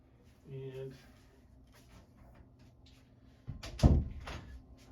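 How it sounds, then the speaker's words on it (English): A home door closing after a reinforcement lock is fitted, landing as a single firm thud near the end, with a person talking quietly earlier. "the door closes."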